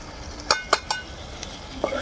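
Spices with kuzhambu powder, turmeric and chili powder sauté in oil for Dindigul brinjal kuzhambu, giving a soft steady sizzle broken by a few sharp clinks of a spoon against the pan, close.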